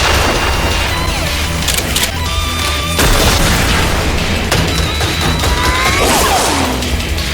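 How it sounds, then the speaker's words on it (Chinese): A distant explosion in an anime battle-royale scene set around a train and crane yard, arriving as a dense, loud, rumbling wash of noise that fills the clip alongside sharp crackles and busy action sounds. "听着2秒后才传来的爆炸声"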